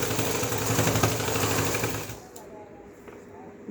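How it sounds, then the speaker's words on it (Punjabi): A sewing machine stitches piping onto a sleeve, its dense steady whirr running loud and close for about two seconds before it stops, leaving quieter room noise behind. "ਪਾਈਪਿੰਗ ਤੇ ਸਲਾਈ ਲਾ ਲਓ"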